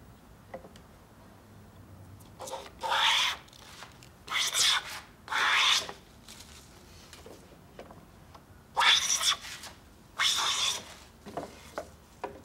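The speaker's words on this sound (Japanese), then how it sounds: "窓じゃくりガンナは窓枠の溝を削るためのカンナです。" Japanese window-frame groove plane (madojakuri kanna) cutting a groove in wood, heard as five broad rasping strokes in two bursts, each roughly half a second long, close and fairly loud, with faint ticks and knocks between them and no talking.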